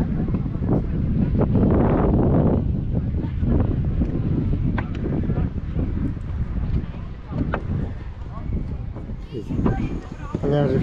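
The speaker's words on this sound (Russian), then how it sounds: "Но когда ветер, он этот песок гоняет." Wind gusts roar across a sandy seaside beach, a strong, steady buffeting rumble against the microphone with a voice speaking underneath.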